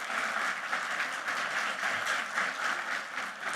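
Steady applause from a conference audience at a national congress of court officers, a dense continuous wash of many hands clapping at an even level throughout, with no speech over it.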